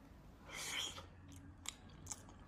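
Close, soft crunching and chewing of a bite of freshly dug sweet potato, a burst of mouth noise followed by a few quieter bites.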